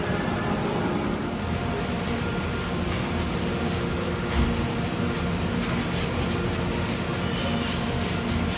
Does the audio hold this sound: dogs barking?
no